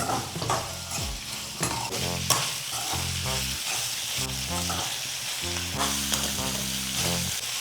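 Coconut oil sizzles and fries loudly in a pan while a utensil stirs and scrapes repeatedly, producing a busy close-up mix of hissing and clinking with no talk.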